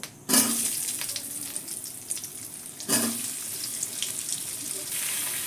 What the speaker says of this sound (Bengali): এবার কুমড়োগুলো একটু ভেজে নেব